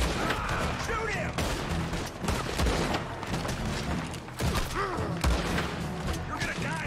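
Gunfight in Red Dead Redemption 2: repeated gunshots and volleys crack out over several seconds amid a busy, rumbling scene, with voices shouting in between.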